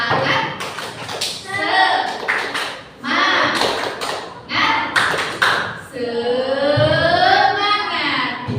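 A group of schoolchildren and teachers clap in a rhythmic cheer clap during a classroom coaching session, loud sharp claps in bursts mixed with children's voices and talking.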